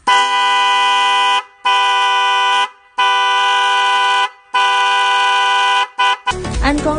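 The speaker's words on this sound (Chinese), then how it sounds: "搭铁后，喇叭声音震撼响亮。" A newly installed car horn with a relay, mounted on a grounded iron bracket, blasts loud and close in five long steady honks and a short toot, followed by brief noise.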